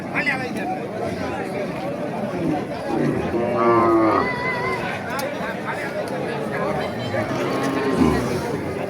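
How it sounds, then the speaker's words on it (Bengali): Cattle moo loudly, close at hand, at a crowded cattle market in Bangladesh ahead of Qurbani. Steady crowd chatter and nearby talking run underneath. "অসংখ্য গরু কিন্তু আমরা এখানে দেখতে পাচ্ছি সুন্দর সুন্দর গরু"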